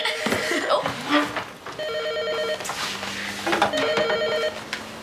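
A home telephone rings in two distinct electronic bursts, fairly near, with brief bits of voices and household noise between the rings.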